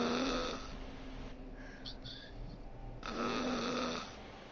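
A person snores over a party voice chat, two long rasping snores separated by a pause, loud and close through the mic with faint background voice noise.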